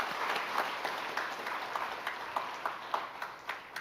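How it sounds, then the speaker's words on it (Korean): A church congregation applauds during a worship service, a steady wash of many hands clapping with scattered sharper claps standing out, fairly even in level and heard without voices. "우리 주님 앞에 먼저 영광의 박수 올려드릴까요?"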